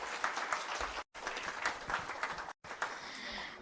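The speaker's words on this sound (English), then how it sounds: "Let's give ourselves a big round of applause for making this happen." An audience at a gathering applauds, dense steady clapping from many hands at moderate distance, briefly cut out twice.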